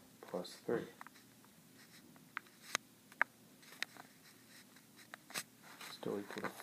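Pen or marker writing an algebra equation by hand, heard as a few brief scratchy strokes and taps, soft and close, spread between quiet gaps under light background noise.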